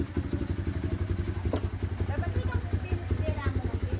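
A Rusi KR250 motorcycle engine idles close by with a rapid, even thumping pulse and a brief click partway through.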